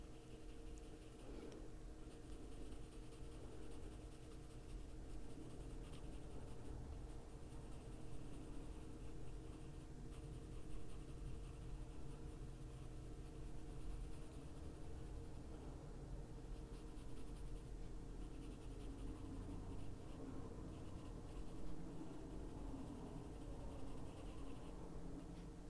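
A brown ochre colored pencil shades very lightly across paper, giving a faint, continuous soft scratching that stays close and quiet with no speech.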